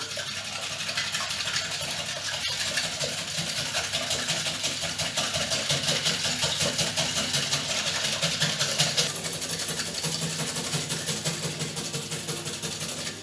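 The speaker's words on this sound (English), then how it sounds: "And then I just need to whisk these." Eggs are whisked by hand in a bowl for Dutch baby batter until slightly frothy, giving a fast, steady, rhythmic rattling that is close and continuous for the whole stretch.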